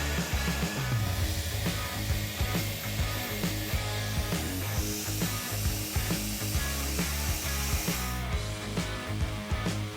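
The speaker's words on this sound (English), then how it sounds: "I cut it right off with the angle grinder" An angle grinder cuts through metal aboard a large ship, a loud continuous grinding and rasping with rhythmic pulses and shifting pitch, running steadily without talk.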